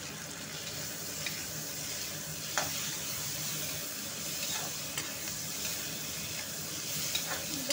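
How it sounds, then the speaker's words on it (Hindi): Capsicum and potato frying in a pan over a medium flame, a steady close sizzle and hiss that runs throughout, broken by occasional soft scrapes of stirring, with no speech. "सब्ज़ी थोड़ा सा फ्राई हो रही है"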